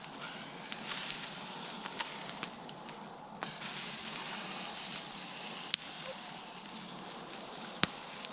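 Butter sizzles and hisses softly in a hot Dutch oven at a winter camp, a faint steady frying crackle with a few sharp pops and clicks, no one talking.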